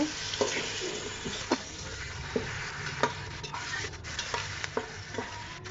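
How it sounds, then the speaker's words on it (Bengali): Spices and dried fish (shutki) are stirred in frying oil, a soft continuous sizzle broken by sharp, irregular scraping knocks of the spatula against the pan. "এখন আমি সবগুলো মশলা শুটকির সাথে ভালোভাবে নেড়ে ছেড়ে নিব"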